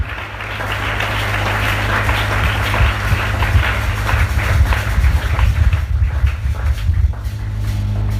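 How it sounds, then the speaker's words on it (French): An audience at an evangelical crusade and deliverance gathering applauds in a dense, steady wash of clapping that stays loud throughout, over a low hum. "Applaudissez le Seigneur, s'il vous plaît."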